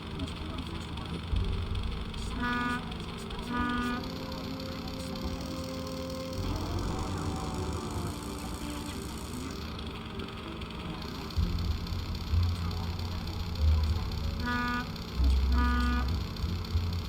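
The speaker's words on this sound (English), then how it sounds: "Well, there's like traffic noise." Traffic ambience from the Nancy Drew game Stay Tuned for Danger: a steady street rumble with pairs of short car horn toots, early and again later, while voices talk over it.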